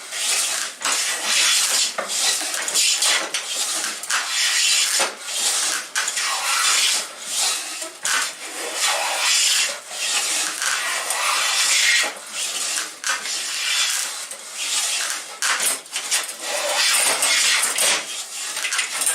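A Silverline No4 smoothing plane shaves sawn treated timber straight from the sawmill. Repeated rasping strokes come close and loud in an irregular rhythm, each a short hiss with brief gaps between.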